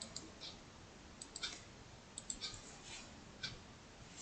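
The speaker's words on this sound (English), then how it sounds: "use your scissors to create that wedge" Scissors snip a wedge from a paper craft piece, giving a few faint, sparse clicking cuts spread across a quiet stretch with no talk.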